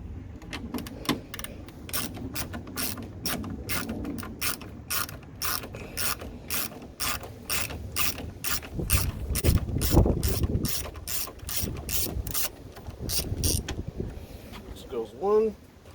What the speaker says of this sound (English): Got my 10 millimeter socket, and we're going to wrench these out.